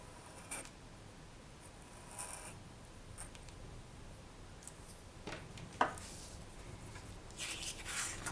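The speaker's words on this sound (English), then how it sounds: "now I'm just going to trim up" Scissors trimming the edges of a rolled polymer clay sheet: a few faint, scattered snips and light clicks over a quiet, hissy room, with no talking.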